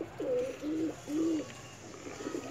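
Pigeons coo in hot summer weather, three clear throaty coos in a row, close by and moderately loud, followed by softer fainter calls against quiet outdoor background.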